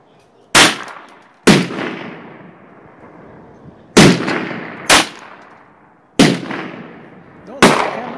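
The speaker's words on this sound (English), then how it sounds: "here he is shooting a pistol" Six sharp gunshots from a Ruger MKIII 22/45 .22 pistol at an outdoor range, fired in pairs with a ringing decay after each crack.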